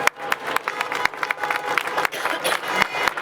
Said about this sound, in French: Un grand bravo et vous pouvez vous applaudir.